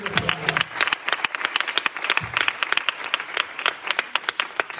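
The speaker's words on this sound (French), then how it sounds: "Applaudissements." Church congregation applauding after a bilingual sermon on doctrine, a steady patter of many hands clapping at moderate distance, fairly dense and continuous for the whole stretch.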